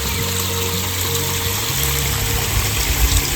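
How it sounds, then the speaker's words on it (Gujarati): Rainwater runs off fields after a night of heavy rain, flooding a groundnut crop. It makes a steady, rushing and trickling wash with a low rumble that holds throughout. "આમ ઠેઠ દૂર દૂર સુધીથી પાણી આવે છે"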